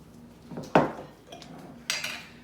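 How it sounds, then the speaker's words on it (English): A spoon scraping and knocking against a pot while pasta bake is stirred, two distinct clattering strokes with softer scraping between them, close and fairly quiet. "I'm gonna go ahead and start stirring this around a little bit"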